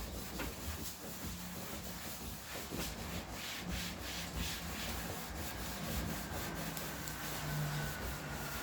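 Wax being rubbed by hand into a painted furniture piece, a steady soft scuffing and rubbing texture that continues throughout at a quiet, even level with no talking.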